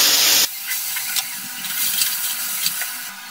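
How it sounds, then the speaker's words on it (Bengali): Long strips of medium potato, salted and turmeric-coated, fry in hot oil, opening with a loud hiss that settles into a steady bubbling sizzle with a few crackles, no talk. "তেলে ভেজে নিচ্ছি"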